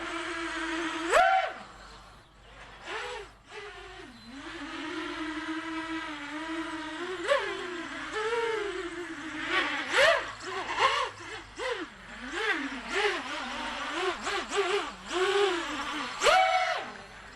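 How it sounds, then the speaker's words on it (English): A small quadcopter on a custom Armattan frame has motors that whine and buzz with a jittery, fluttering, stepper-motor-like pitch, rising and dipping in uneven steps, near and continuous for the whole stretch. "it's making a more like a stepper motor kind of a noise"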